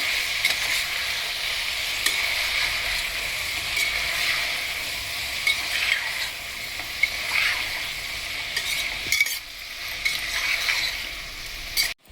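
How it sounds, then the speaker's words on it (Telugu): Brinjal curry with turmeric and rock salt being stirred in a pan, a steady sizzle with scraping spoon strokes running throughout, close and fairly loud, with a brief knock near the end. "ఇప్పుడు అంతా కలిసేలాగా తిప్పేసండి మూత పెట్టేసుకోవాలి."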